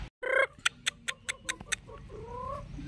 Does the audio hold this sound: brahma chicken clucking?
yes